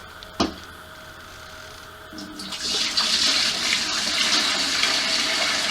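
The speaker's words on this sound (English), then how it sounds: "And you pour the water in" Water poured into the bucket of a Rainbow vacuum, a sharp knock followed by a steady rushing splash that builds and holds loud and close.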